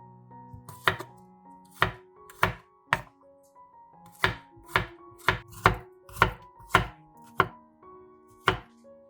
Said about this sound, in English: Chop 4 cloves of garlic.